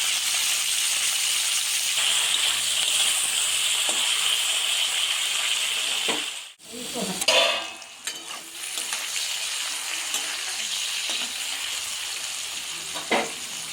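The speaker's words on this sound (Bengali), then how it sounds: "শিমটা ভাজা হয়ে গেল, এবার শিমটাকে তুলে নিলাম।" Steady, close sizzling of green beans frying in a pan over low flame with salt, with a brief stirring clatter midway before the even sizzle resumes.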